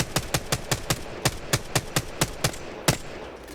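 Rapid automatic fire from an R-301 rifle in Apex Legends: a steady burst of about a dozen sharp, evenly spaced shots, loud and close, with a short gap before the last round.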